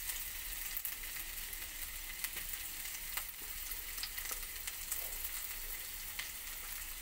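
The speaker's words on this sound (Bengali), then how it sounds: "তেলের মধ্যে দিয়ে দেবো প্রথমে রসুন কুচি।" Chopped garlic and ginger fry in hot oil with a dense, bright, continuous sizzle, close and steady, broken by small crackles and pops.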